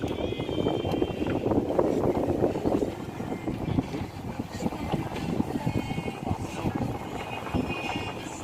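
A cruise boat carrying many passengers on the Mahakam River, its engine a continuous low rumble mixed with wind buffeting the microphone and faint voices in the background.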